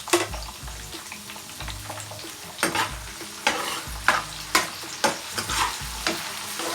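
Chopped onions stirred and frying in a pan for a squid adobo in coconut milk: a steady sizzle broken by several loud scraping stirs of a utensil against the pan, close up, with no talking.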